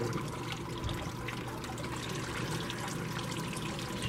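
Steady splashing rush of a garden pond waterfall fed from a bog filtration bed, a continuous even wash of falling water heard close with no breaks or voices.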